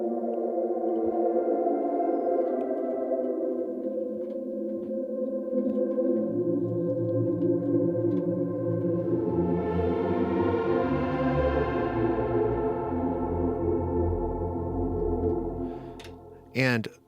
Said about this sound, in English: Or maybe add a chorus.